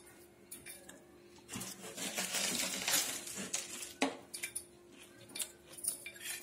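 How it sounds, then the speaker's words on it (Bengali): A metal spoon clinks and scrapes against a dish while someone eats spiced, pickle-mixed food, with light intermittent taps and stirring sounds at close range and no talk. "আমি চামচে দিয়ে খাচ্ছি"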